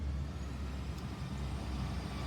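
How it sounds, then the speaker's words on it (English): A truck rumbling past outdoors beside a garden, a steady low engine drone holding through the moment at moderate distance, no voices over it. "Truck passing by."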